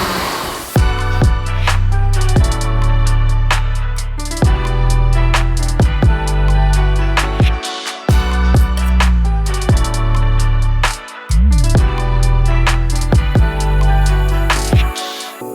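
A BMW 435i F32 with an N55 engine and an AEM intake revs hard through the gears, its note climbing repeatedly with brief drops at each upshift. The engine is loud and close, with intake whoosh and no voices.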